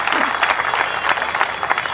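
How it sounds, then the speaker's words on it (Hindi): Loud, dense applause from a large audience at a ceremony honoring a martyr's family, steady clapping throughout with a faint crowd murmur underneath. "जोरदार तालियां"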